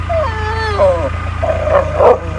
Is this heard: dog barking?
yes